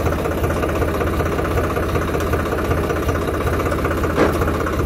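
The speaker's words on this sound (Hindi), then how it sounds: "तो किसान भाई, ट्रैक्टर अपना स्टार्ट हो गया है।" A tractor engine idles close by, a steady low diesel chug with an even knocking rhythm and no talking over it.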